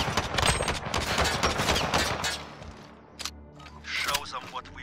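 Rapid gunfire from Call of Duty Modern Warfare in a 2v2 match, dense bursts of close shots crackling for a couple of seconds, then sparser single cracks, with a voice talking over parts of it.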